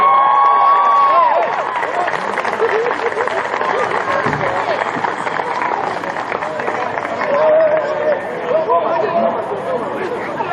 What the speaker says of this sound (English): Ladies and gentlemen, can we please give a big round of applause to Team Japan?